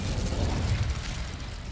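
A fiery Incendio spell bursts out in Hogwarts Legacy, a dense, rumbling whoosh of flame that holds steady for under two seconds, loud and close, with no talk over it.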